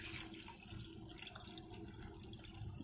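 Water pours steadily into a cooking pot holding potatoes, a continuous gushing splash with no pauses, fairly quiet and close.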